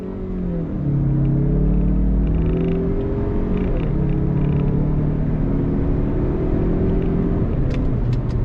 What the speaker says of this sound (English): Let's downshift down to first here once we slow down a little bit. On throttle, here we go.